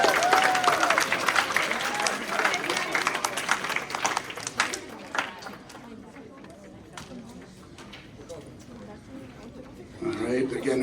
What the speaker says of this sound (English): Please give a round of applause for Team